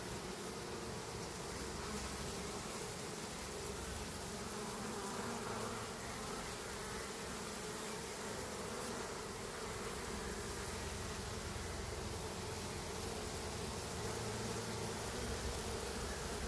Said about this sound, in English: Quite a few bees in here.